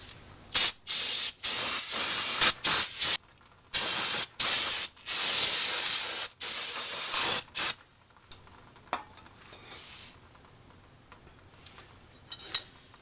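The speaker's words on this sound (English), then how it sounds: "I'm also going to clean off all of this backing plate and area with some brake clean as well." Brake cleaner sprays onto the drum brake backing plate of a 2005 Toyota Corolla in loud, close hissing bursts of varying length over the first eight seconds. Faint clinks and rustles follow, and no one speaks.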